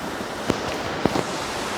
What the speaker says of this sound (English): we have a lot of background noise and it's pretty windy today